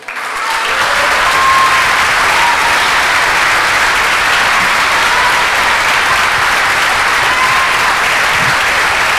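A church congregation bursts into loud, sustained applause that fills the room evenly for several seconds, with no voices rising above it.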